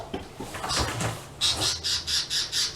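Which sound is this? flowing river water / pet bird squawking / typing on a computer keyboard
pet bird squawking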